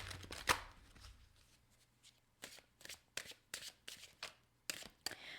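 Tarot cards shuffled by hand in a series of crisp riffling and slapping bursts, irregular and close, with quiet gaps between them and no talking.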